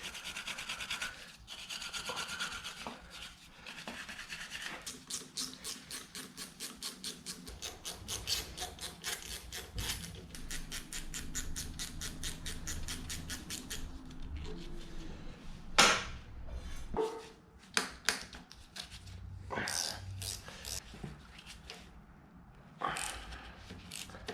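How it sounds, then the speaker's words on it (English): A brush scrubs the tappet holding bolts on a seized 1965 Toyota F135 engine, making repeated close, rhythmic raspy strokes, followed later by scattered clinks and taps of metal. "Give all these tappet holding bolts a bit of a brush."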